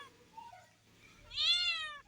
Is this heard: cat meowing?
yes